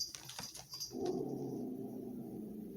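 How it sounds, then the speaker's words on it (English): A dog growls in a low, continuous rumble that runs steadily for nearly two seconds, close and moderately loud, after a few short clicks and taps at the start. "He's growling right now."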